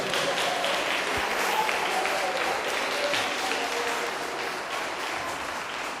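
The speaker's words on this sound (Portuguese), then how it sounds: "Dá uma salva de palmas para Jesus." A church congregation claps in praise during a sermon, a full, sustained round of applause that stays strong and gradually eases slightly toward the end.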